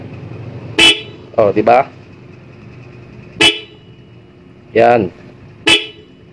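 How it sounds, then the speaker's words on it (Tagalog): A loud car horn wired through a single relay blares in short, sharp honks: one, then a quick double, then more single and longer blasts, close by, with someone talking between them. "Itong horn, pipindutin ko. Magbubusina pa rin siya."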